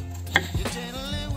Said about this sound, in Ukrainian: беремо, нарізаємо картошку